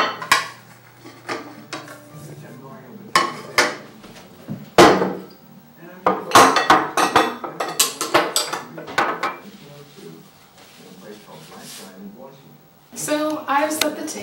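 Dishes and plates clatter and clink in uneven bursts as a simple home table is set, with a voice talking over parts of it.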